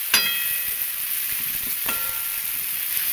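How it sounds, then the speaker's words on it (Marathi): Green chilies and tomatoes stir-fried in a pan, a constant close sizzle with two sharp scrapes of a spatula against the metal. "हलवून भाजून घ्यायचं चांगलं परतून."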